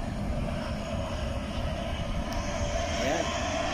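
The Sado Kisen jetfoil ferry at Niigata, Japan gives off a steady, loud engine roar with no break, and a voice talks over it.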